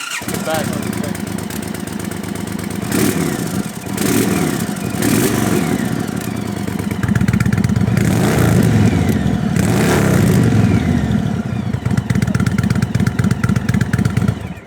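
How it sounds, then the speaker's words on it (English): A 2022 Indian Super Chief Limited motorcycle engine with aftermarket exhaust rumbles close by, blipped and revved in deep, throaty bursts, then settles into a loud, choppy idle; a voice talks over it. "they also brought their Chief demo bike, and it sounds incredible"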